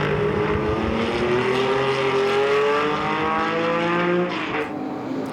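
Race cars from the IMSA Camel GT group finishing at Sonoma Speed Festival 2019, a loud, sustained engine roar with rising and falling pitch as cars pass, alone without talk.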